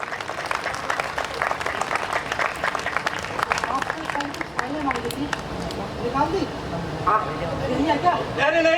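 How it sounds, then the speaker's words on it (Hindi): Applause and crowd noise welcoming Babasaheb Ambedkar at an Ambedkar Jayanti gathering, steady clapping throughout with background babble and talk. "सभी तालियों से बाबा साहब अम्बेडकर का स्वागत करते हुए"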